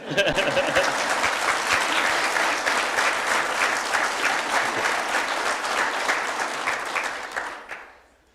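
Sustained applause from an audience at a council inaugural meeting for a councillor's introduction, steady and dense for about seven seconds before fading out at the end.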